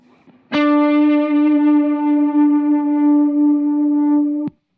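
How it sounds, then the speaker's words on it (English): One sustained electric guitar note played through a swelling reverb pedal rings steadily for about four seconds, a bright harmonic-rich tone that holds level and then cuts off abruptly, with no talking. "it's a swelling reverb, but I call it Bloom."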